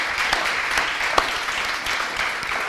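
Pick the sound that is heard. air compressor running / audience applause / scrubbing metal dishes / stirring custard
audience applause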